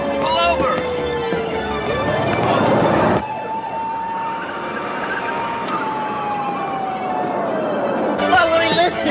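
Police car siren wailing close by, a loud rising and falling tone held across the whole stretch, with a car engine rumbling underneath and voices speaking over it.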